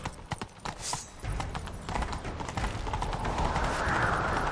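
Rapid, rhythmic hoofbeats of a galloping horse in The Witcher 3: Wild Hunt clatter steadily, growing denser and louder as a rushing noise builds underneath.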